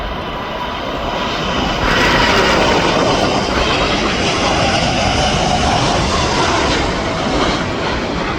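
Boeing cargo jets at Louisville airport, 747s and 757s, fill the air with a loud, sustained roar of jet engines, broad and rushing, swelling slightly in the middle and carrying on without a break.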